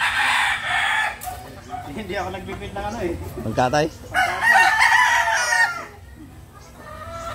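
Roosters crow and chickens cluck among fowl in a pen, with chicks present; long crowing calls rise over scattered clucks while people talk nearby.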